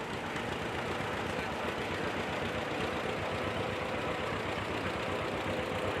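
A 1938 unstyled John Deere BR tractor idles at a steam show, giving a steady, dense, continuous engine rumble with an even low throb that holds at constant loudness throughout.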